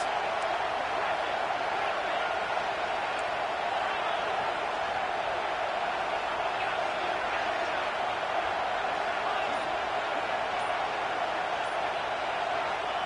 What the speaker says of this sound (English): Big third down in the red zone, and this crowd is getting behind this defense.